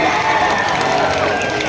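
A large festival crowd at a live music performance claps and cheers in a dense, loud, continuous roar, with voices shouting within the noise.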